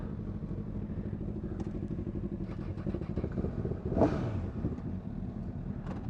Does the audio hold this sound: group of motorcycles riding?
yes